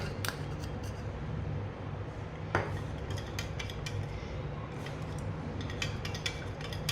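A spoon stirring honey into black coffee in a cup, with light metallic clinks and scrapes against the cup's sides over a steady low background hum, close and fairly quiet.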